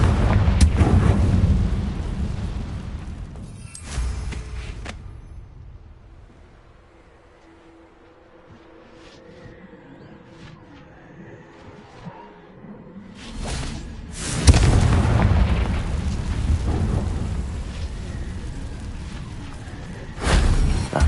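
Booming blasts from the Confringo explosion spell in Hogwarts Legacy, a heavy rumbling burst at the start, a quieter stretch, then more loud explosive roars, the last one a sharp final hit.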